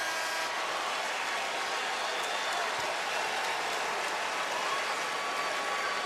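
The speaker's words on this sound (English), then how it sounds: "look at the Carolina fans all standing and applauding as well." Basketball fans standing and applauding in an arena during an ACC Tournament quarterfinal, Duke versus Maryland, a dense steady roar of clapping and crowd noise filling the whole space.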